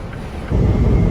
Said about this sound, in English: it's kind of like really windy, like loud outside